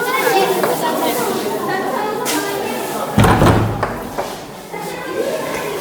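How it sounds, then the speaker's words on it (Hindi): A classroom door thuds shut with one sharp, heavy slam midway, amid continuous children's chatter and a teacher talking. "यहाँ दरवाज़ा बंद कर दें"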